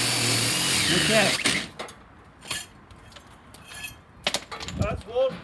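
A loud core drill boring into a slab whines steadily for over a second, then cuts out, leaving clinking metal, scraping and someone talking nearby.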